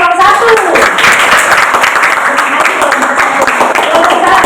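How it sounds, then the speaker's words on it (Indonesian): Applause from a student class after a group presentation, steady crowd clapping sustained throughout at close range, with voices mixed in. "Berikan aplaus untuk kelompok 1."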